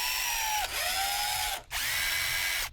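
A drill bores into a panel in a video game, a loud steady whine that dips briefly near the start and cuts out once in the middle before resuming.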